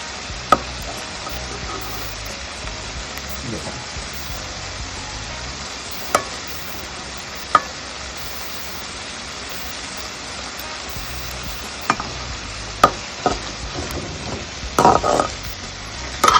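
Steady sizzling of green beans frying in a pan, with occasional sharp clicks and scrapes of stirring, no voices.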